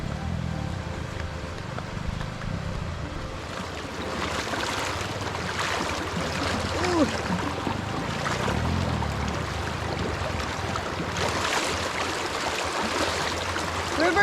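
River water flowing steadily during a family river-crossing trek at Dodiongan Falls, a continuous broad rushing wash with brief louder surges, voices talking faintly underneath.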